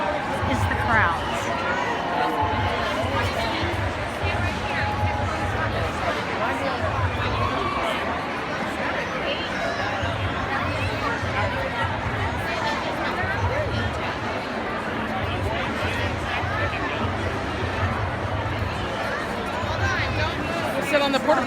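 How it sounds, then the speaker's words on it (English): A huge parade crowd of about 250,000 people at the Kansas City World Series victory parade, a dense continuous hubbub of chatter and distant cheering with nearby voices talking over it. "So this is all that will be on this video is the crowds."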